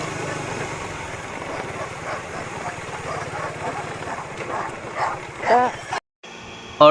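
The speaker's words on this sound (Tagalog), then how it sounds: "sobrang ingay ng aso niyan, walang tigil sa katatahol" A noisy dog barks over and over near a rider's motorcycle, with an engine idling underneath and some speech mixed in. The sound breaks off in a sudden silence and then comes back.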